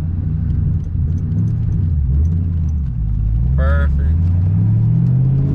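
A 2004 Mustang GT Bullitt with a manual gearbox pulls away in first gear. Its engine gives a loud, steady, close rumble that rises and falls in pitch, people talk briefly over it, and there is a short jingle partway through.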